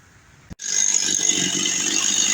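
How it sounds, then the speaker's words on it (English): After a quiet moment and a sharp pull, a chainsaw engine catches and runs steadily, a loud buzzing idle as it warms up before trimming a red oak outdoors. "here's a good hint while I'm warming up my chainsaw"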